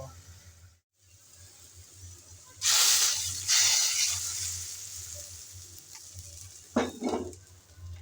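Hot fried spices and red chillies are poured over cooked lentils, a sudden sharp hiss that fades into a softer sizzle, followed later by brief utensil clinks against the pot.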